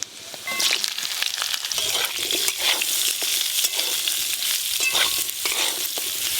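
Hog plums fry with panch phoron spices in hot oil, a loud, dense sizzle that stays constant close by, broken by frequent stirring scrapes and clatters.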